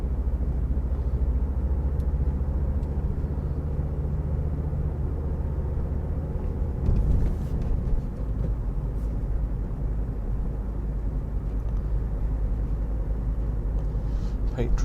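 Steady low rumble of a car on a night drive through Dover, with traffic around it and a brief swell of a passing vehicle midway, and faint voices murmuring under the constant road noise.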